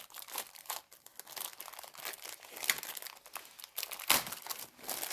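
Sticky label peeled and torn off a triangle-shaped swap box, a steady run of crinkly, ripping paper-and-plastic noises with sharper bursts, close up and fairly quiet, no voices.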